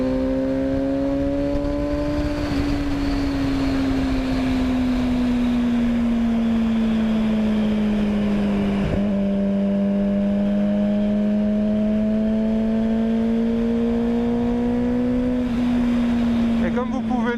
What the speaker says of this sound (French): il y a déjà de quoi faire avec le bruit de la moto